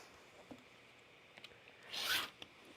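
A short, close rasp of a blade slicing through a length of quilting fabric for sewing, a single stroke of under half a second amid faint room noise.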